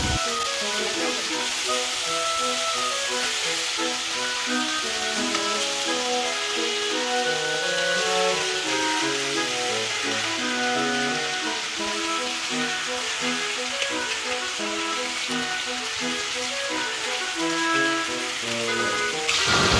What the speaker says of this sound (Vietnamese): Mình chiên chủ yếu là đặt cái bề mặt da của miếng vịt này xuống chảo nha